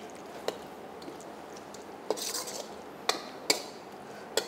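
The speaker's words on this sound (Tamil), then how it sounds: "பிறகு அதை நன்றாக கிளற வேண்டும்" A spoon stirring yogurt into avial, a mixed-vegetable dish, in a pan, giving a few sharp scraping clinks against the metal at irregular intervals over a faint wet squish, close and quiet, with no talk.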